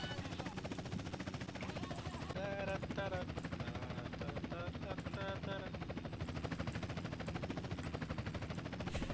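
Rapid bursts of video game gunfire crackle over a droning helicopter-like rumble, with a voice speaking Portuguese now and then amid the battle noise.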